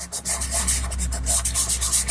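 A pastel pencil is rubbed back and forth on paper in quick, loud, close strokes, a continuous scratchy rasp pulsing in a steady rhythm.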